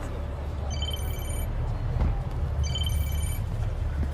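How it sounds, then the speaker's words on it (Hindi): A telephone rings in two bursts of trilling bells, separated by a pause, over a steady low background rumble. "फोन आ रहा है"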